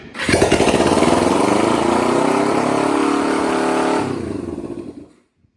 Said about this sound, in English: Let's hit the button.